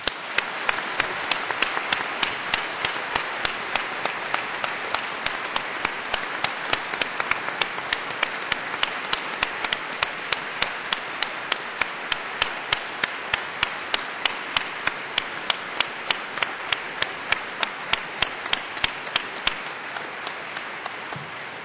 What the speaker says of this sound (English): join us please in a round of applause for all of those people who have helped you